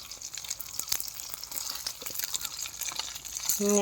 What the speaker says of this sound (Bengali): দেখি আমি ডিমটা ভাজা করে দেই